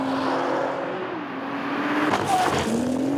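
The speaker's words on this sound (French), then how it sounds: "On passe à la 5e, on arrive à 120 miles en bout de ligne droite." A car in a racing video game accelerates and slides, its engine whining and rising in pitch under a steady roar, with a brief tyre-like squeal near the end.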